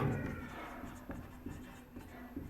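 A pen scratches across paper close up, drawing and writing short entries in quick strokes, while a voice talks over it.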